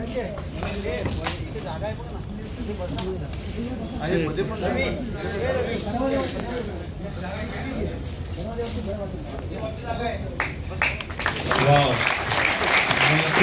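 An audience at a public gathering in Dombivli claps in a sustained wave of applause, and a voice speaks loudly over the clapping throughout.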